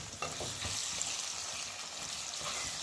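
Curry sardines frying in a pan and being flipped, a steady loud sizzle with a few soft scrapes and turns near the start, close up and without talk.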